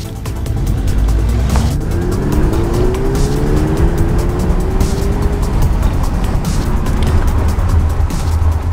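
A car fitted with Eibach suspension accelerates on the road, its engine note rising steadily with a loud, continuous rumble and road noise throughout, close to the listener and with no voices.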